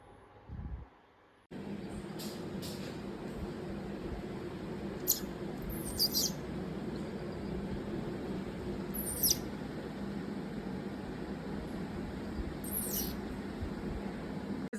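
A sick pet bird lets out a few short, high chirps spaced several seconds apart, fairly faint over a steady background hum.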